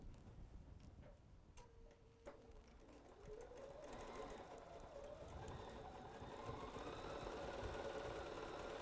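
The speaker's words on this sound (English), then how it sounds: "Now let's go ahead and sew again." Sewing machine stitching a pieced fabric table runner, starting with a few clicks and then settling into a steady, fast mechanical whirring that runs continuously up close.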